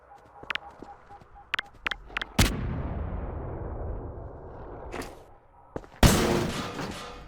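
Grenade explosions set off in the Half-Life mod game Entropy Zero: a few sharp clicks and shots lead into two loud booming blasts, each trailing off in a long rumbling decay.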